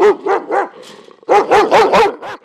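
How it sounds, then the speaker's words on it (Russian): A large dog at an animal shelter barks in two bursts, three sharp barks then a rapid run of five or six, loud and close with no voices. "Этот с виду грозный пес Михалыч"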